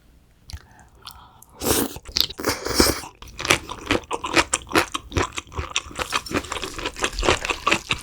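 Raw gizzard shad sashimi salad is chewed close to the mic, with loud wet crunches and bites repeating in an uneven rhythm from start to finish after a quiet opening.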